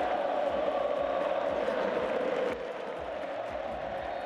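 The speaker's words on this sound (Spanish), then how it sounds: "Y volvía la ovación" A stadium crowd gives a Newell's footballer a sustained ovation, a broad, distant roar of many voices that stays steady and then drops slightly partway through.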